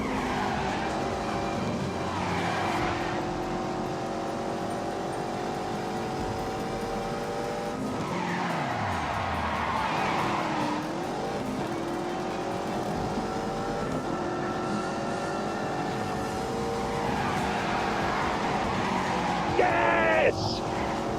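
A car engine held at full throttle in The Grand Tour video game, a continuous high engine drone with gear-change dips and rising pitch sweeps, mixed with tire and skid noise and a player talking over it.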